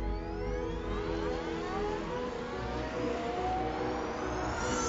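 A car engine accelerates with a rising whine, its pitch climbing steadily over a few seconds, loud and close with no other sounds.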